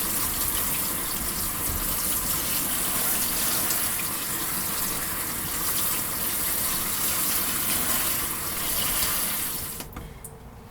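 Soaked oats rinsed under a running kitchen tap, a steady close gush of water splashing into a sink that runs without pause for about ten seconds before cutting off abruptly.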